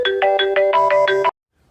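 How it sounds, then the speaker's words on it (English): A phone ringtone plays a bright, repeating electronic melody of short pulses in quick succession, loud and clear, then cuts off abruptly into silence. "that was a phone call I had to take"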